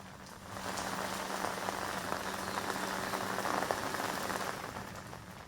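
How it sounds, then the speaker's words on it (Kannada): Steady rain falls in Bengaluru, a dense, even hiss of drops striking surfaces that swells in after a quiet start, holds without letup, then eases slightly near the end, with no voices. "ಇದರ ಸುತ್ತಮುತ್ತ ಎಲ್ಲ ಮಳೆ ಆಗ್ತಾ ಇದೆ"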